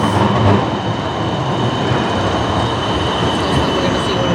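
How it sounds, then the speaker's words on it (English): A tram rumbles past close by in the Netherlands, a steady broad roar of wheels and motor with faint high squeal, loud throughout with no talking. "here comes the tram"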